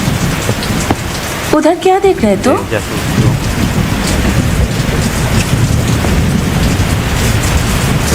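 Heavy rain pours in a loud, continuous hiss with low rumbles underneath, while someone speaks briefly in Hindi near the start.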